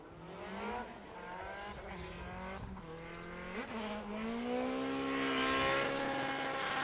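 A Nissan S15 Sylvia drift car at Fuji Speedway, its engine roaring loud and steady with rising and falling revs through a drift run, joined by tire squeal.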